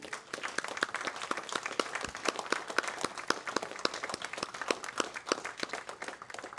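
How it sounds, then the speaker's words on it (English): A panel audience gives the panelists a round of applause, dense overlapping clapping of a modest crowd, lively and fairly even throughout, heard from somewhat far off. "Let's hear a round of applause."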